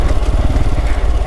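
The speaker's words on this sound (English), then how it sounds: "good thing about my noisy exhaust" A motorcycle with a loud, noisy exhaust rides along a rough green lane. A close, throbbing engine note pulses steadily throughout with no other sounds.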